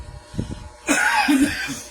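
A single rough cough or throat-clear bursts out after a moment of quiet, sounding close and fairly loud.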